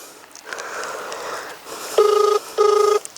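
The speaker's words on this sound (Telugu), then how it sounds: "రింగ్ అవుతుంది" A telephone ringback tone on an outgoing call, two clear rings, each about half a second long with a short gap between them, following a stretch of faint low background murmur.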